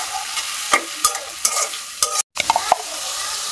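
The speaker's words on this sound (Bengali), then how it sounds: "পেঁয়াজ বাটা দিয়ে দিলাম। সামান্য একটু জিরা বাটা। দুই মিনিট একটু ভাজবাম।" Onion paste with a little cumin paste sizzles in a pan for a shol fish curry, with a steady frying hiss broken by several sharp spoon scrapes and taps while being stirred.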